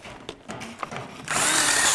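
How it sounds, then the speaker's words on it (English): A power drill bores holes into a wall for running wire; faint tapping and scraping give way to a loud, steady high-pitched whine of the drill biting into the wall, heard alone and close. "Drill the holes and pull the wire through."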